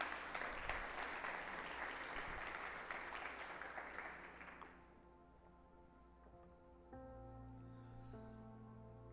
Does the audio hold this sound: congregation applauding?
yes